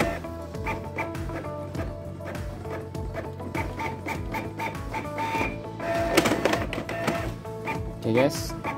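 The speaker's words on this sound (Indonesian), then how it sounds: "Kemudian kita coba untuk nge-print tugas kita." A Canon iP2770 inkjet printer, previously blinking its light seven times, prints a page with steady mechanical whirring and rhythmic carriage clicks, a louder burst of feed noise near the end, and a voice talking over it.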